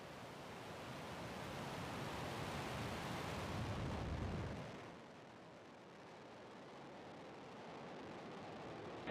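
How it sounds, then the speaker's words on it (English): A Falcon 9 rocket lifts off for the NROL-57 launch with a broad, distant rumbling roar that swells for several seconds, then drops to a lower, duller sustained rush. "Liftoff of the Falcon 9."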